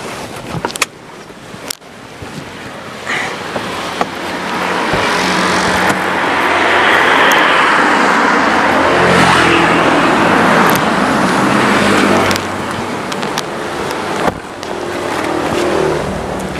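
A car on the move gives a steady engine and road rumble heard from inside the cabin. A few clicks and knocks come early on, the noise swells and holds through the middle, and nobody talks.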